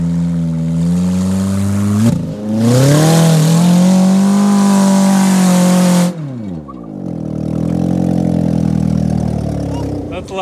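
A Chevy truck engine revs hard in loud surges that rise and fall in pitch, with a brief drop between bursts, and people talk faintly underneath.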